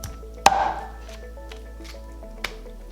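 A knife chops through a whole raw chicken on a board: one sharp close thunk, then a quieter second cut, with no talk.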